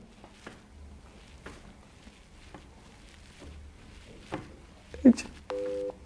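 A RaceFox running sensor gives a short electronic feedback tone near the end, clear and steady, following quiet room noise with a few soft knocks.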